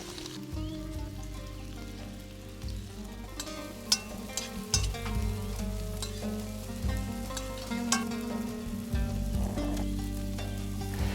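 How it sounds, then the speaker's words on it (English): Onions fry in a little oil in a large pan, a steady crackling sizzle with scattered pops and spits, close and continuous under a low background hum, with no voices. "My dad then gets the onion base cooking in a large pan in a little oil until the onions have released all their sweetness"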